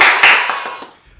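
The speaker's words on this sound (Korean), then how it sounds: "박수!" A short burst of applause from a small group of people, hands clapping together for about a second before fading out.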